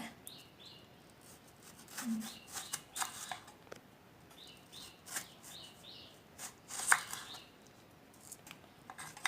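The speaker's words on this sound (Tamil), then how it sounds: "இதே மாதிரி நல்லா ஸ்லைஸ் ஸ்லைஸாக நீங்கள் வந்து கட் பண்ணிக்கோங்க" A knife cuts raw plantain into thick slices with a series of quiet, irregular crisp chopping and tapping clicks spread across the clip, fairly faint and close.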